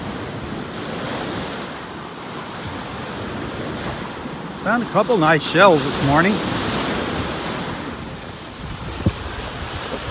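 Gulf of Mexico waves break on a beach during Tropical Depression Alberto in a steady, rushing wash of surf with wind noise, and someone speaks briefly in the middle.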